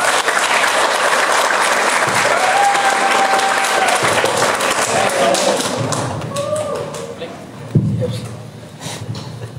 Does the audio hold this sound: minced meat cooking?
no